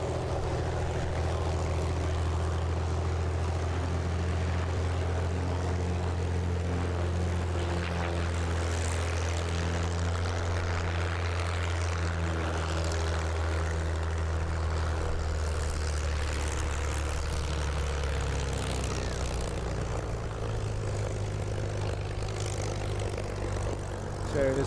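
A very small propeller aircraft performs at the Parco Victory Festival air display. Its engine holds a steady, loud droning hum for the whole stretch, with a slight shift in pitch near the end.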